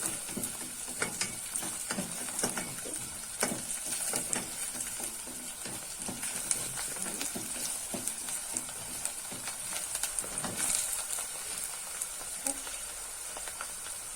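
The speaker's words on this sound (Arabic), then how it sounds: "انا معاكم دلوقتي بقلي اهو لللوبيا اهو" Boiled green beans sizzle and fry in a pan with onion, a steady crackling hiss with occasional stirring scrapes, quiet and close.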